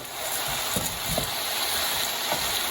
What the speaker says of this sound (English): I apparently have taken to just lightly frying these lentils